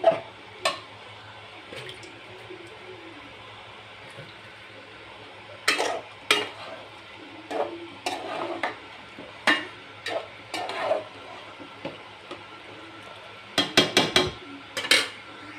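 Chicken meat with spices is stirred in a pan, producing intermittent scraping and clinking of a utensil against metal. The sounds come in irregular bursts over a faint background sizzle.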